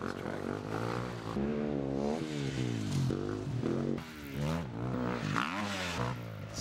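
A 2015 Husqvarna FE350 enduro motorcycle revs repeatedly, its engine pitch rising and falling in loud, close surges, with a voice talking faintly underneath.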